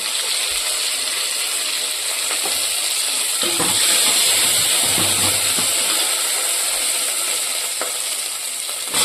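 Dried red chillies and asafoetida temper in hot oil with a steady, bright sizzle and hiss, close and continuous, with occasional stirring clinks and a denser spitting burst partway through.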